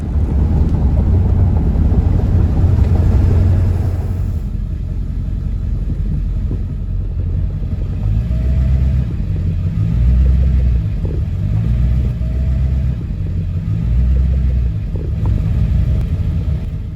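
A truck drives along with a steady, loud low-end engine rumble and road noise, punctuated by periodic swells as it accelerates, with wind buffeting the microphone throughout.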